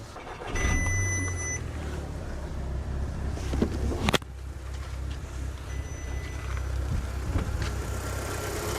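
An Audi TT engine idles with an uneven, shunting roughness, a steady close rumble that holds for several seconds, broken by a sharp knock near the middle.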